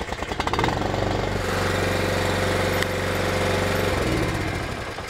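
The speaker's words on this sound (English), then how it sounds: "Now you're ready to start the engine." The small engine of an Equipter 5400 material lift cranks and starts up, settling into a loud, steady rattling run with a rapid mechanical pulse, close by.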